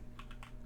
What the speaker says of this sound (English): Let me type it in there.